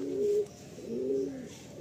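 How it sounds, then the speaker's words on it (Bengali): Madrasi and Andhra pigeons coo nearby, two soft, low, rounded coos with a short gap between them, over faint background noise and no talking. "খুব সুন্দর কম্প্যাক্ট পায়রা"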